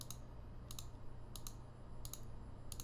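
Several crisp computer keyboard and mouse clicks arrive in small paired bursts at a steady, unhurried pace, close and clear over a quiet background hum, with no talking.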